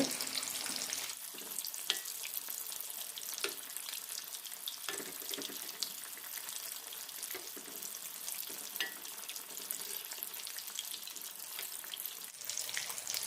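Small snacks made from idli batter and chana dal fry in hot oil, giving a steady crackling sizzle with occasional louder pops and faint clinks, close and continuous with no talking.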